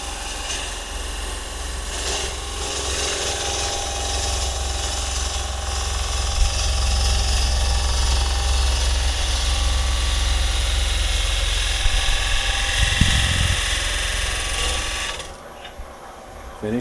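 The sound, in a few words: wood lathe turning a bowl with a gouge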